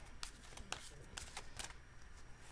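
A deck of oracle cards is shuffled close by, with quiet riffling bursts and soft card slaps coming in an uneven rhythm and no talking over them.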